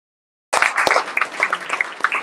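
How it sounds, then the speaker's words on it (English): Audience at a LinkedIn Local Toronto meetup bursts into applause after a moment of silence, a dense, steady clapping that fills the room and holds to the end. "Let's give them a round of applause."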